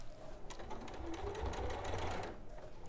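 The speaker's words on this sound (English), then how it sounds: "just go back to your sewing machine and just sew 2 or 3 stitches backwards and forwards over there." A sewing machine runs steadily as it stitches backwards and forwards over a seam while making a tote bag or cushion, a close, even mechanical whirr with rapid needle clatter and no talk.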